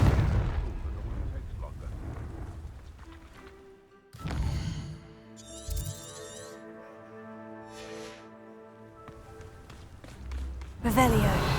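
A Confringo blasting spell bursts in Hogwarts Legacy: a sudden, loud explosive crack follows a fading rumble, then shimmering magical tones and a second heavy blast near the end, with no voices.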